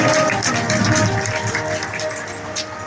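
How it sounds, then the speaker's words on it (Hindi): Steady applause fills the hall as a religious gathering claps warmly for a guest, a continuous close crackle of many hands with a low murmur underneath. "एक बार अच्छी ताली बजा करके चरणों वंदन अभिनंदन।"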